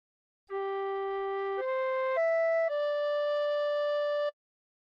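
Recorder playing a short phrase of Nearer My God to Thee: four clean, pure sustained notes moving step by step, played alone and clearly at moderate volume.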